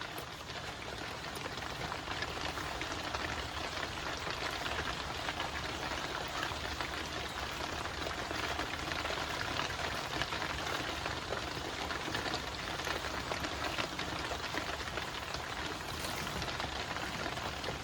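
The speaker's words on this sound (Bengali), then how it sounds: "টিপটিপ করে বৃষ্টি হচ্ছে বাইরে" Light rain patters softly outside, a faint, steady drizzle hiss with scattered drops, continuing alone without any talk.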